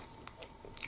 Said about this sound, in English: they're really crunchy, as you can probably hear